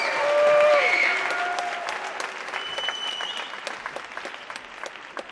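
The audience at the Miss Lehi pageant gives a round of applause for past Miss Lehis. The clapping is loud, swells early and then thins into scattered claps as a voice carries over it.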